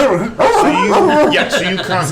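A person imitates a dog with a run of gruff bark-like yelps and whimpers during a tabletop role-playing game, loud and close, with voices mixing in.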